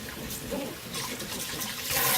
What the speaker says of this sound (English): you can just rinse it out with water.